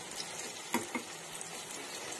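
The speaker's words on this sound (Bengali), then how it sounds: "মিডিয়াম রেখে কিন্তু আমি এগুলো ভেজে নেব।" Radish-greens fritters (bora) frying in oil over medium heat give a steady, soft sizzle with a couple of brief louder pops or clatters near the start; no one speaks.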